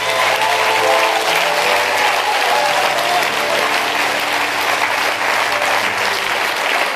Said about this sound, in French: acclame, acclame, acclame, acclame.